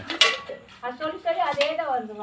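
Washing dishes, pots and pans at home: a few sharp metallic clinks and clatters of cookware, fairly close, mixed with speech in between.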